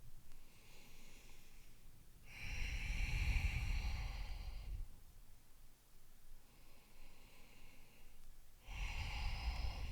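Slow, deep breaths during a yoga embryo pose in a yoga wheel class, with long airy inhales and exhales rising and falling at an unhurried pace, close and steady, with no talk.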